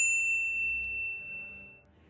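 Notification bell sound effect: a single bright ding that rings out and slowly fades, alone with no talking.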